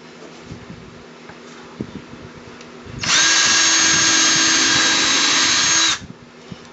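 Power drill boring through a wooden board for a paracord jig: quiet handling noises, then one loud steady high-pitched whine for about three seconds before it winds down, followed by light tapping.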